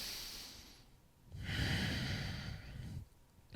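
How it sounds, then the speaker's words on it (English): One slow, deep breath during a lower back exercise: a soft inhale drawn in through the nose, a pause, then a longer, fuller exhale, close and quiet. "One more breath here."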